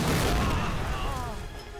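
A bazooka rocket blast in the video game Medal of Honor: Allied Assault Breakthrough, a loud booming explosion that rumbles and slowly fades over about two seconds.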